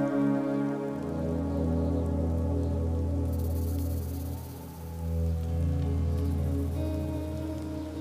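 Steady rain falls in the Rocky Mountains in wind-swept wet weather, a continuous close hiss of drops on surfaces holding at an even level for the whole stretch with no voices.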